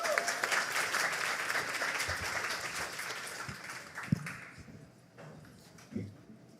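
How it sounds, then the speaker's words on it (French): An audience claps after a talk on the effects of agricultural plastic mulch at an environmental event, with dense, sustained applause that gradually thins and fades toward the end. "on applaudit très fort pour sa présentation"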